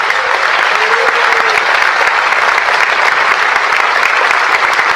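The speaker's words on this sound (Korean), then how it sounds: "다시 한번 대통령님께 큰 박수 보내주시기 바랍니다." Steady, loud applause from a large audience at a presidential inauguration ceremony, continuous dense clapping throughout with no talking over it.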